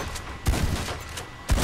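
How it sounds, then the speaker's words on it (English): Shotgun blasts in the video game Red Dead Redemption 2, two loud booming shots about a second apart over a noisy, rumbling game background. "I'm gonna need the shotgun for this one."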